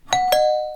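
A doorbell chimes a two-note ding-dong, the second tone ringing out and fading.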